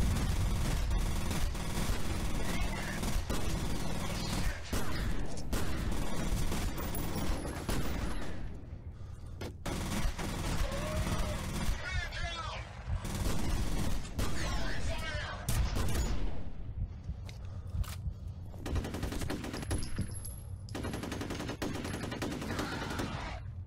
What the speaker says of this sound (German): Oh nein, wir fangen direkt mit einer Schießerei an.